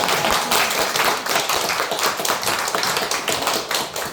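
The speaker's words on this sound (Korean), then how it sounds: "우리 감사드리며 박수하겠습니다." A church congregation applauds during a Sunday worship service, giving steady, dense clapping from many hands that fills the room without a break.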